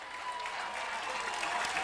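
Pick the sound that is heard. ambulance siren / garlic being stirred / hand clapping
hand clapping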